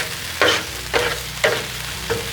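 Hamburger meat being stirred and pressed on a hot Blackstone griddle, with four short scraping bursts about half a second apart over a steady sizzle.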